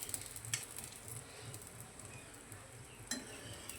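Egg chapati fries in a little oil in a pan, giving a faint continuous sizzle with soft patter, punctuated by a few sharp utensil taps against the pan and no talking.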